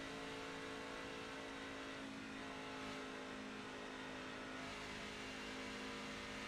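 A race truck engine at Pocono drones steadily from inside the cab, holding a constant mid-range pitch with a loud, unbroken roar and no surges to full throttle.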